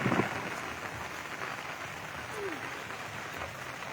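Steady rain falls on a rural pasture where buffalo are kept, a dense, even hiss of drops continuing throughout at moderate level with faint background sounds.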